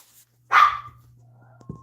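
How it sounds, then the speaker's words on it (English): Dogs barking at a distance during a pool game show: a single sharp bark followed by a faint short yip, heard alone. "we got some barking dogs in our show as per normal"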